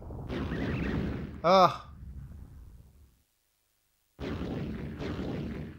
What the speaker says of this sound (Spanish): Nos han mandado a tomar por culo las explosiones.